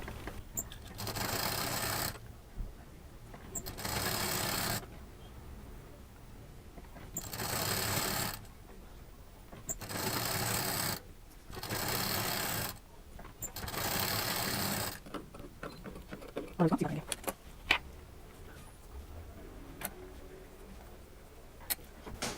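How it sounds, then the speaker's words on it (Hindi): A sewing machine stitches folded triangular fabric pieces for a patchwork sling bag, running in several loud bursts of rapid steady chatter separated by pauses, then lighter clicks and handling of the cloth. "इसको यहाँ पर इस तरह फोल्ड करेंगे और उसको यहाँ पर सिल देंगे।"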